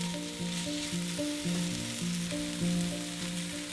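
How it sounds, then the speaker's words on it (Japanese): Food pan-frying in a little oil for a low-carb bento, pressed down as it cooks; a loud, steady sizzle runs throughout with an even tonal hum underneath and no talk. "お弁当の時は少ない油で少し押し付けながら焼くと 表面がカリッとしていい感じに仕上がります。"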